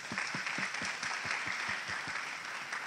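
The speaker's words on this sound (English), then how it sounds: "Can we give them a round of applause," Audience applause at a joint city council and planning commission meeting, a steady burst of many hands clapping at moderate distance that holds for about three seconds.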